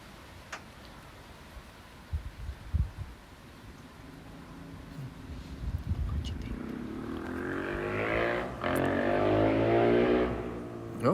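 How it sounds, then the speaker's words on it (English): A motorcycle engine approaches and grows louder, its buzzing rev rising steadily over faint ticking and background noise until it is close and loud. "someone's fixed his motorbike"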